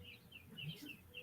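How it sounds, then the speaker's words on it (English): Birds chirp outdoors, a few quick high tweets that are faint and distant against quiet background air. "Can y'all hear the birds in the background?"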